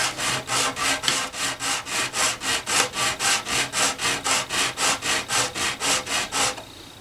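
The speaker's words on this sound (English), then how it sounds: "I'm gonna use this radius piece of wood with 120 grit sandpaper to smooth over that" A 120-grit sandpaper on a radiused wooden block is worked over the binding of a 1967 Gibson LG-0 guitar, giving about twenty even, rhythmic rasping strokes, close and steady, ending abruptly.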